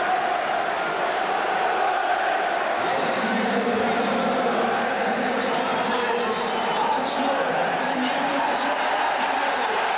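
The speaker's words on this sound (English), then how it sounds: "And the crowd see them now for the first time." A vast football crowd roars and cheers continuously as Arsenal and Newcastle appear for the 1998 FA Cup final, a dense, steady wash of stadium noise with a commentator's voice over it.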